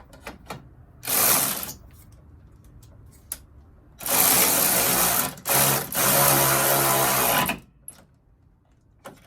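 A 10mm bolt is driven in with a power tool to fasten a Redarc BCDC charger during an install on a 70 series Toyota LandCruiser. It comes as two loud mechanical whirring bursts, the second longer and broken by brief pauses, with small clicks between them.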